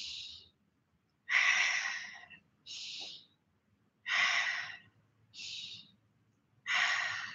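Rhythmic breathing during a Pilates session, six slow audible breaths alternating inhales and exhales, each lasting about a second with short silent gaps, close and fairly soft.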